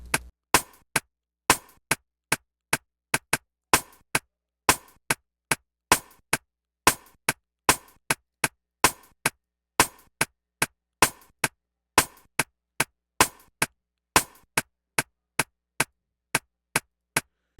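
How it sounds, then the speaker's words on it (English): A programmed Afrobeats drum loop of sharp, dry rim shot clicks in a syncopated repeating pattern, with louder accented hits among softer ones, played crisp and isolated with silence between strikes. "I want to accentuate it with another rim shot sound, so I'm going to use this kind of rim shot."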